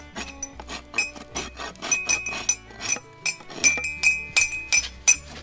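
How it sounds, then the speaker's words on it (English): A rasp works a chipped horse hoof in a quick, steady series of about a dozen gritty strokes, each with a bright, scratchy, metallic edge, close and fairly loud with no talk. "See, this rasp is really not my favorite."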